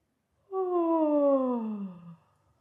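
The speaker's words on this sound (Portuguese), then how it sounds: "aquele som de quando a gente boceja" A single long, drawn-out yawning voice sliding downward in pitch, close and clear, lasting about a second and a half.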